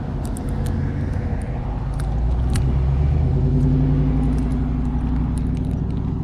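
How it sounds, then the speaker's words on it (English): Street traffic passes close by during a walk with a dog, a continuous low engine rumble and tire roar swelling as vehicles go past, with faint clicks above. "So here there's some traffic coming."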